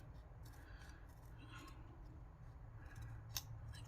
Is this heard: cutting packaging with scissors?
yes